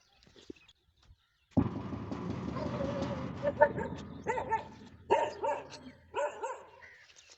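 A dog barks a few times nearby, short sharp yelps separated by brief pauses, after a quiet opening.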